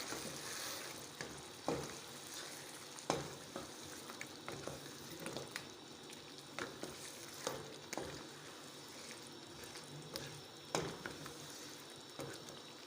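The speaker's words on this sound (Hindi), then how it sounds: "मीडियम फ्लेम पे हम 10 मिनट इसको भूनेंगे।" Mutton chops frying on a medium flame, a continuous soft sizzle broken by scattered sharper spits and the occasional scrape of stirring, close but fairly quiet and without speech.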